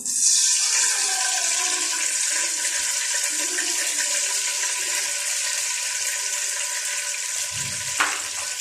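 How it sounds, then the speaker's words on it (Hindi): Water pours into a hot pan of ghee in a home kitchen, setting off a loud hissing sizzle that slowly settles, then a brief clatter near the end. "चलिए हम इसमें पानी डालते हैं।"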